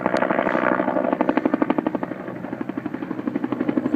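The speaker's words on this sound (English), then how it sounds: "if we look up to our right here, we're going to see a helicopter coming in for" A firefighting helicopter comes in overhead to scoop water, its rotor throbbing in a steady, strong rhythmic chop that stays loud and close and grows more pronounced throughout.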